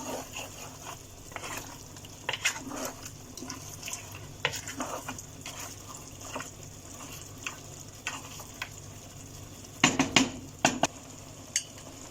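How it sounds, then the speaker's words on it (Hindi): A spoon stirring biryani masala mixed with kewra water in a pot for mutton biryani, giving irregular scraping and clinking strokes over a low steady sizzle, with a cluster of louder knocks near the end. "अब इसे अच्छे से मिक्स कर लीजिए कि केवड़ा वाटर मसाला में मिक्स हो जाए।"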